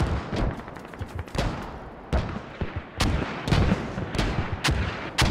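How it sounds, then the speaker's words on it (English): Repeated booming blasts and explosions from mortar and artillery fire in the military shooter game Squad, a rapid series of loud impacts spread across the whole clip with no voices. "the explosions, mortars are very critical for this match"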